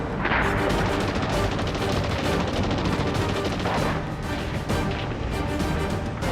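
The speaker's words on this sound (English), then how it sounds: "the Japanese unleash heavy mortar, sniper, and machine gun fire" Heavy wartime battle din with mortar, sniper and machine gun fire from Japanese forces against beach assaults, dense overlapping bursts and booms continuing throughout.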